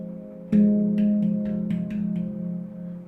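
Two notes struck together on a steel handpan, a sustained warm tone that keeps ringing as softer taps follow in a loose rhythm, close and alone.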